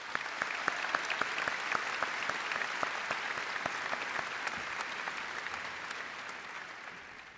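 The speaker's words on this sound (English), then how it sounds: "Let's give them a round of applause." Audience applause at a high school graduation ceremony in a large hall, a continuous, even roar of many people clapping from some distance, with a few crisp nearby claps popping out before it gradually tapers off.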